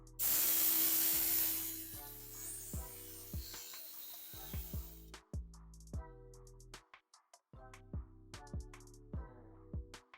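An electric belt knife sharpener grinds a knife blade with a loud steady hissing rasp for about four seconds, then stops, leaving short repeated mechanical clicks and taps.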